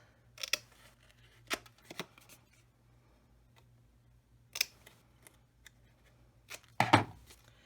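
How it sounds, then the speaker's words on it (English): Scissors snipping the corners off a paper folio, a handful of short, crisp cuts spaced irregularly with quiet gaps between, close and fairly soft. "it's just a simple matter of cutting these corners"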